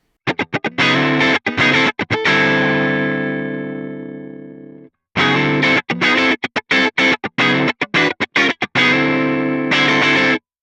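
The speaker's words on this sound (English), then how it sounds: "one cool thing with the compressor here is you can blend it in with the dry signal" Electric guitar through a compressor pedal blended with the dry signal plays choppy, punchy chords with a long sustained ringing chord between, the tone compressed and even, loud and close.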